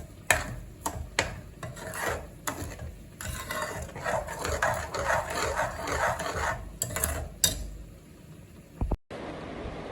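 A spoon scrapes and rubs against a pan while stirring a thickening sugar and ginger mixture for ginger fudge, making irregular rasping strokes, close and moderately loud, with a few sharper knocks.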